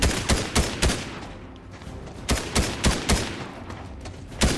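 Rapid bursts of gunfire from the video game Fortnite, a loud fusillade of repeated shots in clusters with short pauses between volleys.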